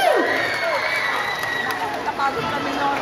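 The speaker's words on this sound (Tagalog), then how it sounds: "Example nga ng palakpakan dyan." Mall crowd at a dance contest show clapping and cheering in a loud, continuous wash, with shouts and a rising whistle-like voice near the start and chatter mixed in.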